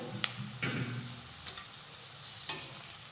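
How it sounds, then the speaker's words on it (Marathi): Halved tomatoes and cashews sauté in a pan for a cashew curry, with a soft low sizzle and a few scraping stirs and clicks of a spoon against the pan, close and fairly quiet. "आणि हे परतून घेऊयात टोमॅटो आणि काजू घातल्यानंतर हे थोडंसं परतून घेतलेलं आहे"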